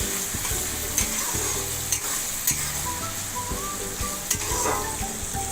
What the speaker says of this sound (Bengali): পেঁয়াজটা একটু নেড়ে ছেড়ে দেখতে হবে, নাহলে তলা পুড়ে গেলে টেস্ট নষ্ট হয়ে যাবে খাবারের